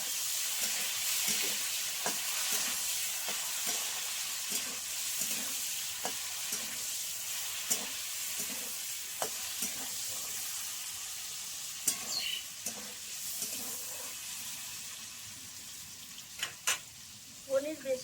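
Paneer fries in oil in a pan with a steady low sizzle. Irregular light knocks and scrapes come from the pan being stirred, and a few sharper clinks stand out near the end.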